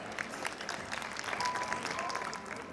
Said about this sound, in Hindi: आइए हम सब उनका जोरदार तालियों के साथ स्वागत करें।